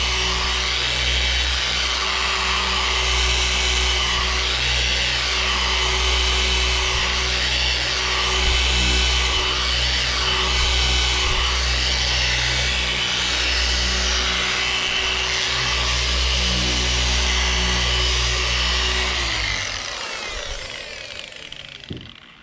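A polisher buffs single-stage car paint with a loud, steady whir and grinding hum that holds for most of the stretch, then bogs down and winds off near the end.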